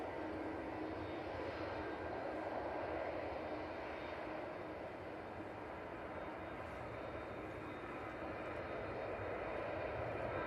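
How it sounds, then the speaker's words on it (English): A Jet2 airliner bound for Rome rolls for takeoff at Manchester Airport, a broad, continuous jet engine roar holding steady and fairly distant for about ten seconds with no voices. "Jet 2 to Rome is on the roll."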